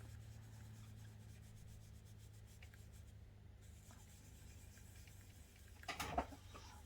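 Hand rubbing of Tamiya coarse polishing compound into car paint on a Pontiac Fiero, a faint steady scrubbing over a low hum, ending in a brief louder scuff.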